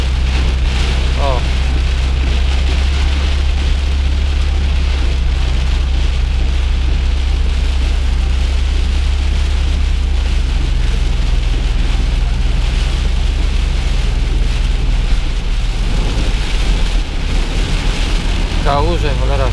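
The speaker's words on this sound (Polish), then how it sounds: "No ale żeby taki deszcz, taka ulewa, to tu będzie powódź wszędzie jutro." Heavy rain pounding on a moving car on a motorway journey from Switzerland through Austria, a dense loud roar of drops over a low engine and road rumble, with someone talking at times.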